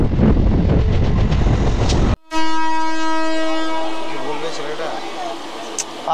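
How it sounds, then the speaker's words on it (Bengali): A local train at Ramnagar station starts with a loud rumble and clatter, then the horn blows a long, steady blast that fades slowly, with a faint voice under it. "চলো এখন সিগন্যাল পেয়েছি, এখন ছেড়ে দেবে আমাদের লোকাল ট্রেন।"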